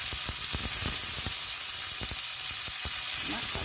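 Chopped tomatoes hit a hot frying pan for chicken afritada, bringing up a loud, steady sizzle with a few scraping stirs.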